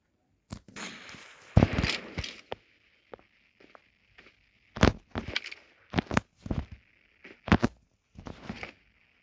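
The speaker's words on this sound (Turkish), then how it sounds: "Bomba attı." A bomb dropped from overhead explodes in a series of sharp, crackling bursts, several loud bangs spread irregularly over several seconds against a quiet background, with faint voices.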